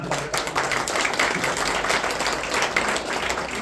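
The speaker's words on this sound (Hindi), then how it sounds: "जोरदार ताली बजाएं" Steady, dense applause from an audience at a Brahma Kumaris Holi qawwali gathering, loud and continuous throughout with no pauses.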